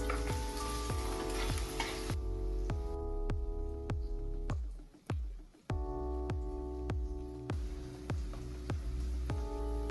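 Mango pieces with asafoetida and turmeric sizzle loudly in a hot pan while being stirred, with repeated sharp scraping knocks of the spoon against the pan, briefly dipping quieter midway before the steady frying hiss returns.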